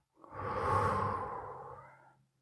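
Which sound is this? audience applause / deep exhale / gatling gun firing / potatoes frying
deep exhale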